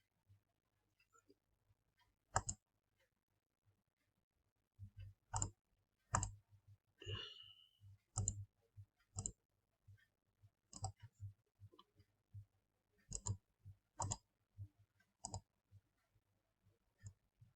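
Mouse clicks on a computer while building a view in a coding tutorial, a series of sharp single and double clicks spaced irregularly over a quiet, faintly humming background.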